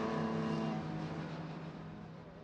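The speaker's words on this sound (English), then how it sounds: "And the cars will go down the start-finish straight." GT race cars in the GT Open Cup Europe race at Barcelona roar down the start-finish straight, with a steady, loud engine drone that fades slightly as they move away.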